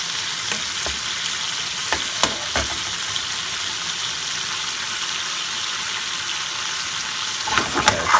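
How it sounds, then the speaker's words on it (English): Chicken tikka frying in base gravy in a hot pan, a constant loud hiss and crackle with a few spoon scrapes and taps near the start and end, close up with no talk. "Now we're going to add the chicken tikka, my recipe chicken tikka, as just the base gravy."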